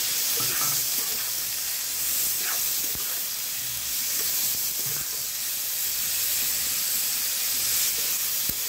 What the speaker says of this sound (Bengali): মশলাটা ভাজা ভাজা হয়ে যাচ্ছে